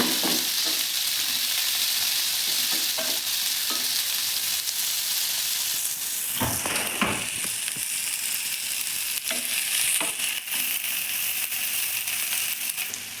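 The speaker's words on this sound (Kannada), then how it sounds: "ಸ್ವಲ್ಪ ಕಲರ್ ಚೇಂಜ್ ಆಗೋವರೆಗೂ ಈರುಳ್ಳಿ ಫ್ರೈ ಮಾಡ್ಕೊಳ್ಳಿ" Onions for mushroom Manchurian fry in a pan with a loud, continuous sizzle and crackle, joined by a few sharper stirring scrapes near the middle and end, no voices.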